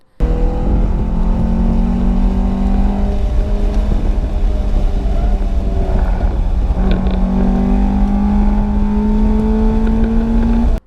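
A race car's engine drones loudly from inside the cabin on an autocross course, its pitch rising steadily under throttle, dipping briefly around a gear change, then climbing again, continuous and close.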